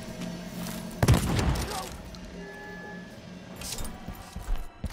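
Gunfire in the video game Deathloop, a sharp burst of shots with a crashing boom near the start and softer pops afterward, with a person talking over the game sounds.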